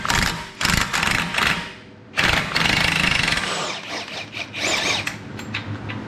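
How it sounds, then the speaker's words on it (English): An impact wrench on the 32 mm center bolt of a 2018 Chevy Malibu front axle shaft, fired in loud, close bursts of rattling hammering with a metallic squeal, pausing briefly between runs. "I'm going to be cheating and using the impact."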